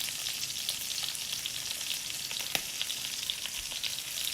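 Duck breast fat sizzles in a pan over a gas flame, making a constant bright crackling hiss with tiny pops and one sharper spit, all close by with no talking.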